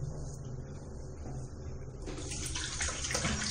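Cold water runs from a bathroom tap for rinsing the face after a shave, starting as a soft trickle and swelling into a fuller, louder hiss partway through, heard close with no voices.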